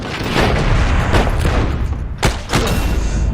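Video game explosions and gunfire, a dense run of loud booming blasts with two sharp hits near the end, close and continuous.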